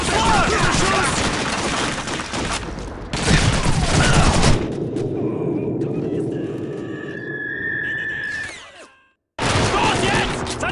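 MG42 machine gun fire in Call of Duty 2, with loud dense bursts of automatic gunfire and explosions and a sustained battle din that cuts off abruptly, then resumes, mixed with in-game shouting voices.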